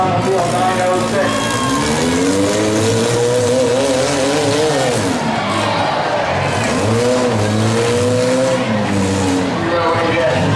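Cars in a six-cylinder demolition derby at a county fair rev and skid with wavering engine whine and tire noise, loud and continuous, while an announcer talks over a public address system.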